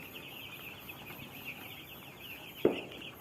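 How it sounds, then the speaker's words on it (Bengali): Broiler chickens in a poultry shed cluck and call quietly at close to middle distance over a steady hum, with one sharper squawk near the end. "এখন সাতটা বাজে কিন্তু মুরগি হাঁপাচ্ছে"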